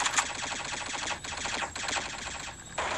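Rapid video-game gunfire mowing down zombies, a dense, continuous stream of automatic shots crackling close and loud with only brief lulls, and no talking.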